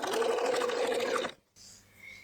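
A sewing machine runs steadily while stitching a dress seam, loud and close for just over a second, then cuts off abruptly into near silence with faint room noise.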